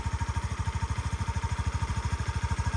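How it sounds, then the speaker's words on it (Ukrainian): A Honda Dio 110cc fuel-injected scooter engine idles close by, a steady rapid putter with even pulsing beats and no voices. "Послухайте, як двигунчик працює"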